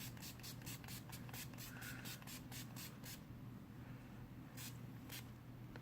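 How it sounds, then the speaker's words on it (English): NYX First Base Primer Spray misted onto a face in a quick series of short pumps, then two more spritzes after a pause, all faint and close over a low steady background hum. "I'm then going to go in with my NYX First Base Primer Spray."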